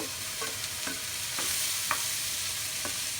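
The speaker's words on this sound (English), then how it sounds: "the onions, and I'm putting them in first because I want the onions to help build the flavor of the dish" Onions frying in a pan as the base for chili, with a soft constant sizzle and a few crisp spatula scrapes spaced about half a second apart, close and alone.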